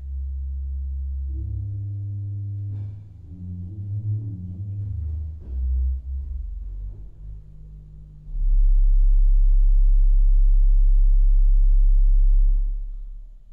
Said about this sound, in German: Hier das Register für das Pedal. Klingt sehr tief, weil das sind ganz lange Holzpfeifen.